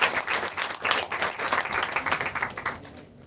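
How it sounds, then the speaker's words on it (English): Applause from an audience at a student research conference award ceremony, a steady patter of many hands that thins out toward the end. "A round of applause from him, please."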